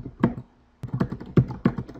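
Someone types on a computer keyboard while writing a description and tags, producing close, brisk clusters of keystrokes that break for a brief pause and then resume in uneven bursts.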